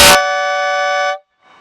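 Train horns mounted on a 2013 Trek 4300 Disc mountain bike give one very loud, sustained, brassy chord-like blast lasting about a second, starting with a burst of air and ending abruptly, followed by a faint hiss.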